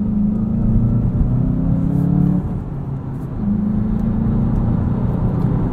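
A 2020 Volkswagen Jetta GLI with a 6-speed manual drives on the autobahn, its engine droning loudly as it revs up, dipping briefly as if between gears, then pulling again amid road rumble, with no talking.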